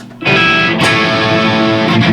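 A Gretsch G5622T electric guitar played through distortion: one strummed chord rings out thick and sustained, a second chord hits just after, and the fuzzy wash holds steady to the end.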